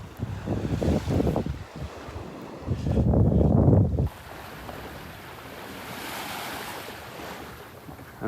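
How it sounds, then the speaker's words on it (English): Ocean waves wash onto the beach by Pelican Bay in North Naples, Florida, just south of Vanderbilt Beach, a steady broadband surf hiss with heavy gusts of wind buffeting the microphone in bursts, no talking. "I'm out on the beach by Pelican Bay up in North Naples"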